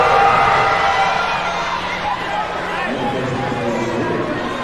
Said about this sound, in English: We'll let the crowd tell you the results of the first free throw